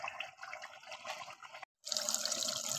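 Water drained off soaked dried fenugreek leaves in a home kitchen, a steady soft trickle and splash that stops briefly and then resumes, quiet and close, with no talking.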